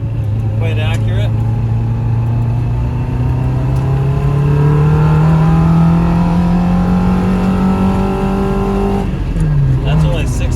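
Engine of a 1964 Honda S600 Roadster revving hard while driving, a loud, close, rising whine that climbs steadily through the gears, drops briefly and picks up again, with people talking over it.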